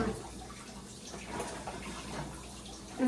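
Water is poured into a pot of cooking mung beans, a steady rushing, splashing pour running throughout the clip, close and continuous, with no talking.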